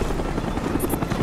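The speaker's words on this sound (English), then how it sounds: "Enemy Cobra approaching." Rotor drone of an enemy Cobra attack helicopter approaching in Call of Duty Black Ops team deathmatch, a steady loud chopping roar filling the whole moment with no voices over it.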